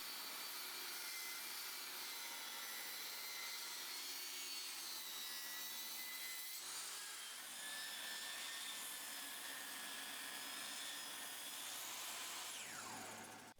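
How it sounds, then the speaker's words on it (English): A table saw resaws 2x4 lumber in a steady, loud cut, its blade whine holding through the pass before the tone shifts and the cut winds down near the end. No speech. "When resawing on the table saw, make sure to keep the same face against the fence for both cuts."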